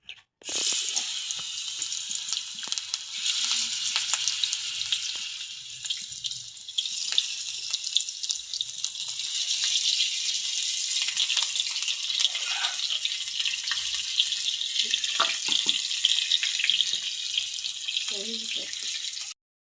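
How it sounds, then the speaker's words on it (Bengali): Pieces of rohu fish fry in hot oil with a steady, bright hiss that runs unbroken throughout, with a few faint clinks underneath. "মাছটা আগে ভেজে নেই।"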